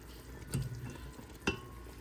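Potatoes dropped one at a time into a pot of water on the stove, giving two soft splashing plops about a second apart over a low steady kitchen background.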